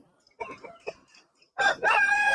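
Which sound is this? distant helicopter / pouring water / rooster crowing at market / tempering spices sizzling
rooster crowing at market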